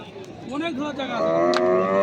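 A bull at a rural livestock market moos close by, one long loud rising bellow with a faint click partway through.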